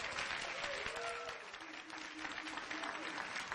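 An audience applauds a NASA social event panel at the MAVEN launch, sustained clapping from a crowd filling the whole stretch, even and fairly distant, with faint voices underneath.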